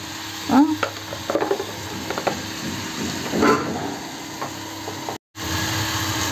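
Eggplant and potato with turmeric sautéing in oil, a moderate sizzle with intermittent clinks and scrapes of a spoon stirring the pan, close and with no talk.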